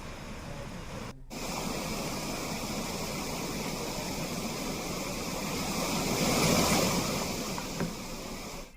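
The swollen Gona river rushing in flood, a steady broad roar of churning water that holds constant throughout and swells slightly louder toward the end, with no voices.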